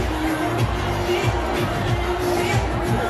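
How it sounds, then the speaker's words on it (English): Crowd gathering at an outdoor Bernie Sanders rally in New Brunswick, New Jersey, a steady diffuse murmur of many distant voices filling the space. "The crowd is still filling in."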